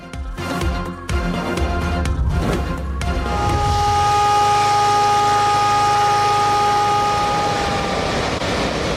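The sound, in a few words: warning siren alerting residents near Rawal Dam spillways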